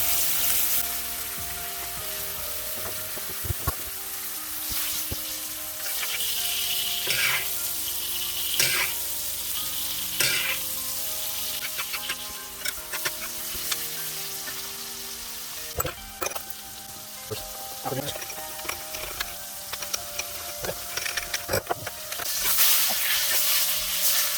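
Butter frying in a hot pan alongside strip loin steak with sauce, a steady sizzle and hiss running throughout with occasional scrapes and clinks of stirring.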